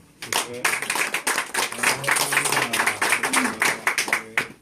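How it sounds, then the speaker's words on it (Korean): A church fellowship gathering breaks into loud, dense applause after a prayer, close, vigorous clapping from a room full of people with voices mixed in. "다시 한번 크게 박수."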